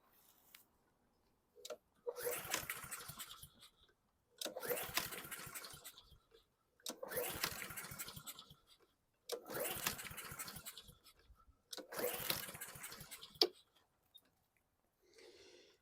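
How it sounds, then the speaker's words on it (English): A 2018 Honda GCV160 lawn mower engine being pull-started: five separate rope pulls, each a sputtering burst of engine noise lasting about a second and a half, with silent pauses in between and no sustained running. "I'm gonna pull on this. Hopefully it starts and stays running."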